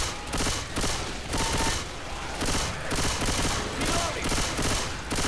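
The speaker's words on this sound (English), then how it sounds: "Those shotgun blasts that I'm shooting aren't even hitting zombies" Repeated shotgun blasts in the zombie game Left 4 Dead 2, about five loud, evenly spaced booms with chaotic zombie-fight noise behind them.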